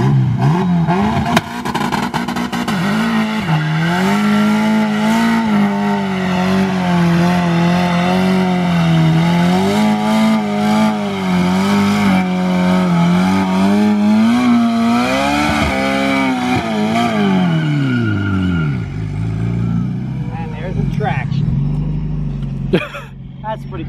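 A single-turbo BMW 335i and a minivan racing at Sebring, a loud sustained engine drone rising and wavering under throttle for most of the stretch, then dropping off near the end, with people talking over it.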